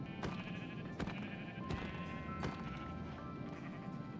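Sheep bleat in Minecraft during a snowy blizzard, with several short bleats heard over steady, loud, rushing wind noise.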